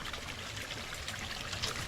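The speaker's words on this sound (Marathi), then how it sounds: "बघा इथे पाणी आहे झऱ्याचं" Spring water trickles and splashes softly in a steady, continuous flow, faint and close, with no other sounds.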